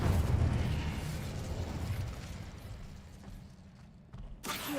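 A fire spell cast in the wizarding game Hogwarts Legacy: a loud whooshing, crackling burst that fades into rumbling, followed by a brief sharp flare near the end.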